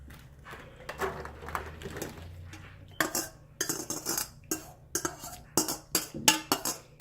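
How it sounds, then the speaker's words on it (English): Cooked macaroni noodles are scooped into a baking pan for baked macaroni and cheese: a quiet start, then a run of close, uneven clinks and scrapes of a utensil against the pan, with no talking. "So now I'm going to take the noodles and put it in my pan right"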